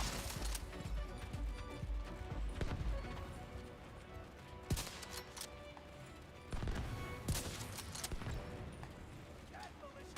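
Gunfire from The Division 2 during a global event boss fight, with sharp bursts and shots scattered across a dense, busy game soundscape, while people talk over it.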